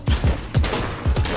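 Gunfire in a multiplayer shooter video game, five quick thudding shots in an uneven burst, loud and near, with no talk over them.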